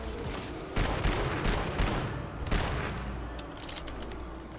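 Gunfire from the GTFO video game comes in repeated bursts of close, sharp shots over a rumbling game backdrop, loud and irregular in rhythm.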